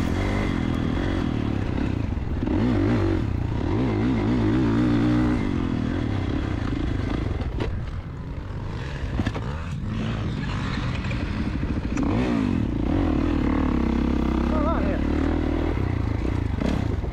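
A four-stroke motocross motorcycle engine running through a race, a continuous loud droning roar that rises and falls with throttle, with some clatter and a faint voice mixed in.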